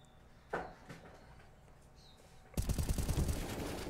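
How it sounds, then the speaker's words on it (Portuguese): Gunfire on the Inferno map in Counter-Strike during a professional NIP vs MOUZ match, a faint isolated shot early, then a loud rapid burst of automatic fire breaking in near the end. "Olha aí, o Hess sofre muito tiro por ali."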